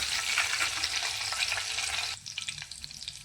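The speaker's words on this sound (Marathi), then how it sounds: "लसूण फ्राय होईपर्यंत याच्यामध्ये आपण जिरा आणि मोहरी पण याच्यामध्ये फ्राय करून घेऊया" Garlic, cumin and mustard seeds fry in oil over a low flame, giving a close, steady sizzle and crackle that drops abruptly to a quieter, sparser spatter partway through.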